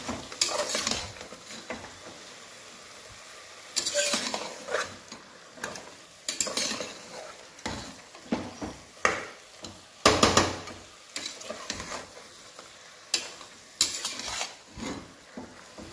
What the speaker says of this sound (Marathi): असं पिवळसर होत नाही तोपर्यंत याला परतवत राहू।